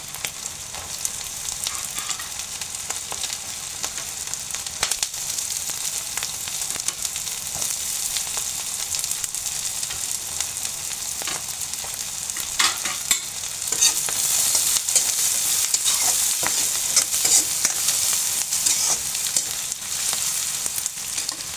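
Onion, green chilli and freshly added carrot fry and get stirred in a pan for vegetable noodles, a steady close sizzle with scraping spatula strokes throughout, growing louder and brighter toward the end, with no talking.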